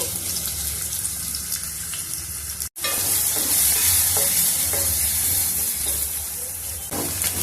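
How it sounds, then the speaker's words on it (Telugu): Onion slices frying in oil in a pan for a chicken and brinjal curry, a loud, steady sizzle with occasional stirring clicks and a brief dropout partway through, with no talking. "ఉల్లిపాయ ముక్కలు వేగిపోయినాయి."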